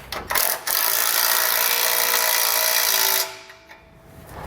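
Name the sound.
tightening bolts on a trailer hitch with a ratchet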